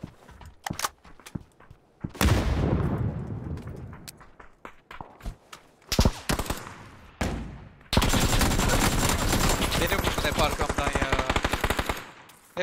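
Gunfire in PUBG on the Erangel map: scattered single shots, then a long loud burst of rapid automatic fire, more bursts and a sustained automatic volley, with players talking in between.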